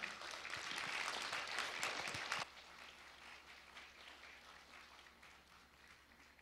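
A hall audience applauds to welcome Professor Kang Shin-ik to the stage, a dense, steady wash of clapping from many people that cuts off abruptly partway through, leaving a fainter low murmur.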